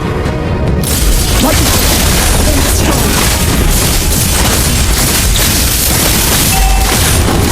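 A turret is destroyed in the Mobile Legends video game, with dense, continuous loud explosive booms and crashing impacts that fill the mix without pause.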